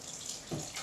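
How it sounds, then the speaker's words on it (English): Water splashes briefly into a soft, porridge-like bread dough for an Ouma-style loaf, a short close pour that swells midway through a faint, quiet background. "More water"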